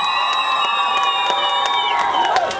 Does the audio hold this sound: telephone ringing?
no